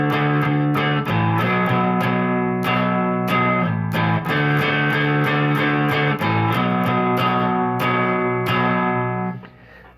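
Distorted electric guitar plays power chords in the chorus of a song, driving loud chugging strums that shift between chords and then ring out and fade at the end.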